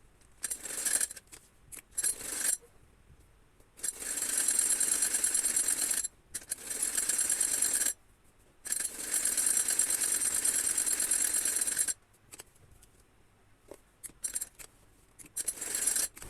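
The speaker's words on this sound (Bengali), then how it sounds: "এখন আমি এই পাশটা সেলাই দিব। একইভাবে এই পাশে সেলাই।" A sewing machine stitches the side seams of a designer top for a four-year-old child, whirring in several bursts lasting a few seconds each, separated by short quiet pauses, close and fairly loud.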